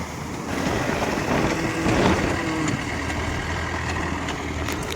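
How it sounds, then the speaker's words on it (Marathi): A tractor engine running steadily on a farm during rice transplanting, a loud, low, unbroken rumbling drone heard close by. "ट्रॅक्टर चालू राहिलाय"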